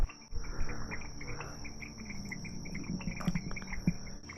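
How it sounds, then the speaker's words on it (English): A quiet outdoor forest ambience beside a lagoon in Venezuela, with a continuous high insect drone, repeated chirping calls from small frogs and scattered faint bird notes. "You can hear the little frogs around, little birds, only the sounds of the forest."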